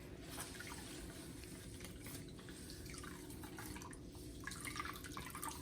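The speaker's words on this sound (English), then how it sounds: "Squeeze all that flavor and aroma right out of that towel" Lilac tea squeezed out of a towel, liquid dripping and trickling steadily into a container at close range, a continuous wet patter with small splashes and no talking.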